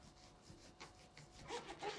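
A serrated knife saws back and forth through dense nougat with dried fruit, giving quiet, rhythmic rasping strokes that grow slightly louder toward the end.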